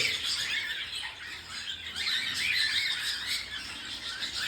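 A pearl pied cockatiel, silver split, squawks and chatters in shrill, steady bursts, close by and fairly loud, with no talking.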